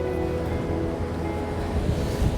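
Steady roar of ocean surf at sunset with wind buffeting the microphone, a continuous wash of noise with waves breaking close by and no voices.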